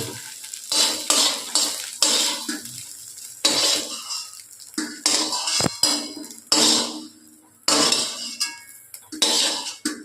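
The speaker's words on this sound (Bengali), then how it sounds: "তো এই ডিমটাও আমাদের ভাজা হয়ে গেছে বন্ধুরা লাল লাল করে।" An egg fries in oil in a pan for mixed fried rice, loud bursts of sizzling that come and go between brief pauses, with spatula clatter against the metal pan close by.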